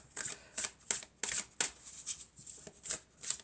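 Oracle cards being shuffled and handled, a series of crisp riffling bursts at a fairly steady rhythm, close and clear with no talk.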